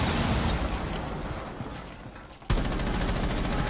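Rapid gunfire in Rainbow Six Siege, a dense fusillade of shots that fades slightly, then a sharp loud burst resumes at about two and a half seconds, close and continuous with no talk.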